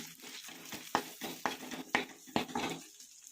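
A spoon scrapes and clinks against a pot as chilli powder and sambar powder are stirred into drumstick curry, with a series of sharp taps at a steady rhythm over a faint sizzle, close and fairly quiet.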